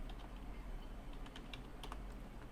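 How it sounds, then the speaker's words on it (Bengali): Quiet computer keyboard typing as a word is entered into an Excel spreadsheet, with faint, irregular key clicks over a low background hum. "এখন আমরা এখানে যদি টাইপ করে দিই সিলেট"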